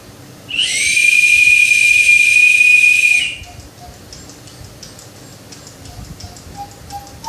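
A bright, steady electronic whistle from a Joypalette toy bird holds one high tone for about three seconds, then stops, leaving faint chirps and quiet background noise.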